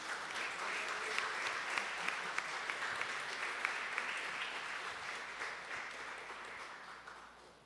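A church congregation claps together during Sunday evening worship, a dense, steady wash of applause that holds at full strength for several seconds before easing slightly near the end.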